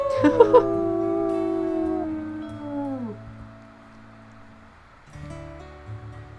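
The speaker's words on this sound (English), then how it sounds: "I guess it's howl time." Wolves howling in the video game WolfQuest: several long, sliding howls overlap and fade out, followed by a quieter, lower howl near the end, with no talk.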